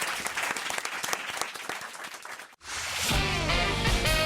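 Studio audience applause on a radio talk show, a lively burst of clapping that cuts off abruptly and gives way to a music jingle.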